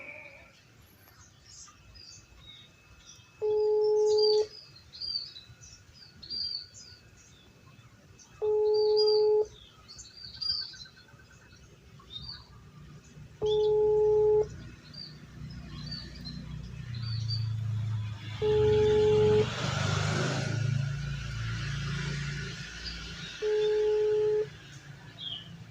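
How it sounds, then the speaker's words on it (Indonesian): A phone call placed to an inactive number in Indonesia: a mid-pitched tone pulses about every five seconds in a steady, repeating pattern, with birds chirping in the background and a low rumble swelling near the end. "Kok tidak aktif HP-nya Pak Birta ini? Jangan-jangan nomor diblokir"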